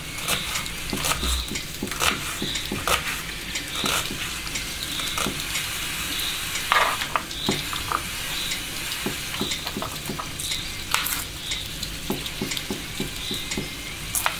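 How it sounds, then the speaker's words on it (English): Food sizzling in a frying pan, a steady crackling hiss with frequent sharp pops and spits, close and continuous for the whole stretch, with no voices. "Sizzling in the frying pan."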